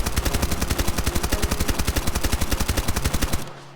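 Sustained full-auto burst from an MP5 submachine gun fitted with a muzzle attachment in the video game Escape From Duckov, rapid evenly spaced shots for over three seconds, loud and close, then cutting off abruptly.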